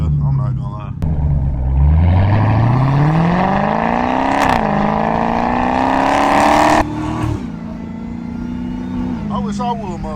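A straight-piped Dodge Hellcat with 700 horsepower roars close by, its engine pitch climbing steadily through long loud pulls with sharp shift breaks, then settling into a lower steady drone before a brief voice-like rumble at the end.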